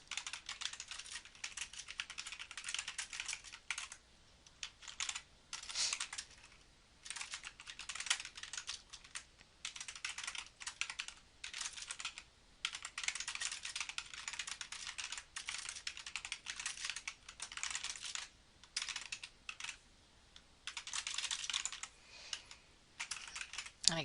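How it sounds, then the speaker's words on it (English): Steady, rapid keyboard typing in bursts with brief pauses, close and clear, continuing throughout with no one talking. "I'm just going to start typing in"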